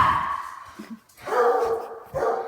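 Rescue dogs barking and yipping at close range in a house, several sharp bursts with a short lull before a loud stretch of barking resumes, then another burst near the end.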